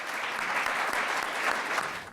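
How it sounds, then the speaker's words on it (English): A seated audience welcomes speakers with a brief round of applause, moderately loud, dense even clapping sustained through the short stretch with no voices over it. "Please help me in giving our speakers one more welcome with a round of applause."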